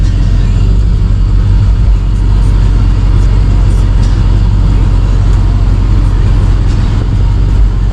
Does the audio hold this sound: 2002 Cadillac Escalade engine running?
yes